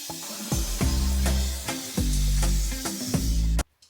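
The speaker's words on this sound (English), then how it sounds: "I'm about to knock out the rest of my house with a paint sprayer." A paint sprayer coats a house with thinned paint, giving a loud, steady spray hiss over a low motor hum in repeated bursts between trigger pulls, then cutting off abruptly at the end.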